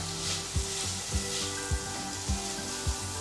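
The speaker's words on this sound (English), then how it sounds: "saute the onions and then go in with your spices" Onions and spices sizzle steadily in a hot pan for baked beans with sausages, with a regular stirring scrape roughly every half second over the continuous frying hiss, close and fairly loud.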